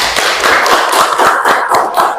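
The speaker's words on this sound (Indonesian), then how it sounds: "Silakan tepuk tangan." Secondary-school students applauding together in a classroom, a close, loud burst of rhythmic group clapping with evenly spaced beats, steady for about two seconds with no talk.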